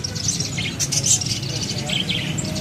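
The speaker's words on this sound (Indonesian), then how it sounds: "Ready juga burung jalak suren dewasa" An adult Asian pied starling (jalak suren) calls in a bird shop at a Palmerah market: bright, bursty chirps and whistles over a low, busy background murmur.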